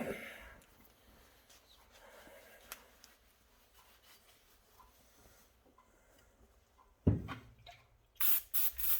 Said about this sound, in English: Bit of brake clean won't hurt.